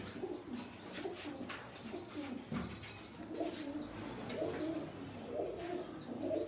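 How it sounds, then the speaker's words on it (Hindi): Pigeons coo in soft, low repeated phrases, with a few higher chirps from other birds over steady background noise. "और ये टेडी कबूतर है।"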